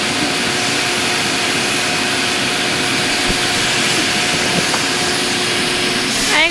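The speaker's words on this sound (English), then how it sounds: "Plug the vacuum." A vacuum cleaner runs on a farm, a loud steady whine with a constant droning hum that holds throughout and swells slightly at the end.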